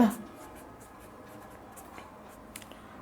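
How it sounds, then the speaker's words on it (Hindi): Scratchy strokes of writing on a board during a math lesson on averages, faint and close, with a voice speaking underneath. "तो यहाँ लिखेंगे, तो औसत बराबर लिखेंगे"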